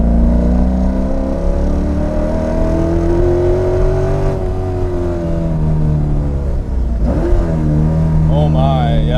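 A 550 HP C5 Corvette Z06 accelerates hard, its loud engine note climbing and droning steadily through the gears, briefly dropping at a shift before building again, with wheel slippage at the rear; a voice speaks over it near the end.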